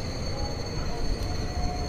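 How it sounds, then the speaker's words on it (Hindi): A Mumbai local train crosses past on an adjacent track, a steady rumbling clatter of wheels and carriages heard from aboard another moving local, fairly faint and unbroken throughout. "ये देखो लोकल ट्रेन एक और क्रॉस कर रही है"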